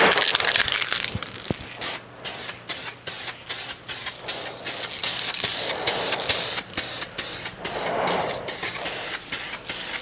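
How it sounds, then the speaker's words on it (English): An aerosol can sprays black paint onto a DL-44 prop blaster in a rapid series of short, hissing bursts, close and loud, with a longer continuous spray at the start. "we're gonna hang this thing up and spray the entire thing black."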